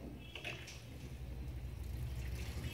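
Water pours steadily into an LG 10 kg top-loading fully automatic washing machine as it fills, a soft continuous rushing and trickling with a low hum underneath, fairly faint and without talk.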